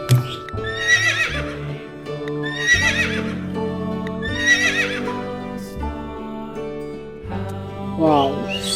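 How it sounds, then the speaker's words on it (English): A horse, shown as an orange horse in an animal-sounds lesson, whinnies in three long, loud neighs followed by a shorter fourth call, all over steady background music. "Sweet horse, orange color horse."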